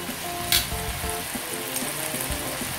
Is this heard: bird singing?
no